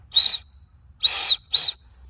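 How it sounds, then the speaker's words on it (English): Three shrill blasts from a plastic lanyard whistle, the first and last short, the middle one longer with a wavering pitch, sounding close and piercing with quiet gaps between. "at the end of the lanyard it has a whistle also"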